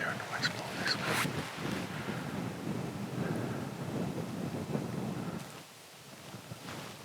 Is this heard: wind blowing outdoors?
yes